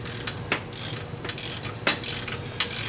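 Ratchet clicking rapidly in repeated bursts while bolts are tightened down on the cylinder head of a 2007 Mini Cooper S R56, close and fairly loud with no talking.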